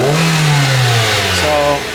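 A car engine revs hard at wide open throttle, a loud sustained mid-pitched roar that climbs and holds steady, then eases slightly near the end, heard close and alone.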